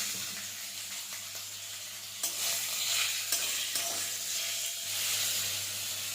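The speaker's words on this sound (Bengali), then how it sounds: "প্রথমে আমি মাংসের টুকরোগুলো ভেজে নেব।" Meat pieces fry in hot oil in a kadai on a gas stove, giving a steady soft sizzle broken by a few sharp stirring scrapes, with no voices.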